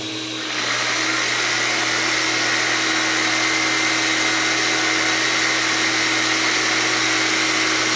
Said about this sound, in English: Let's turn this Sawzall on.